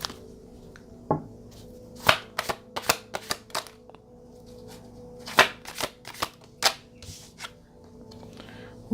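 Tarot cards from the Wounded Warriors deck being shuffled, crisp irregular riffles and slaps in quick bursts with short pauses between, close and clear with no talking.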